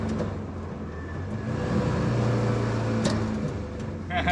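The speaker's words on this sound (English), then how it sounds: "Launch control pops and bangs" A Zetec-powered Mk2 Ford Escort holds on launch control, its engine droning loudly and steadily up close before a sharp crack and a burst of rapid pops near the end.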